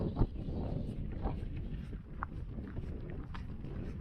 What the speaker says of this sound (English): And that seems to be mainly due to this awful wind. Very gusty.